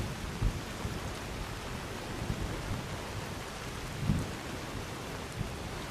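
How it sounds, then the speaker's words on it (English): Heavy rain pours steadily in the video game Skyrim, a dense hiss filling the scene, while low rumbles of thunder thump in at a few points, the strongest near the start and another later on. "This is kind of a heavy rain."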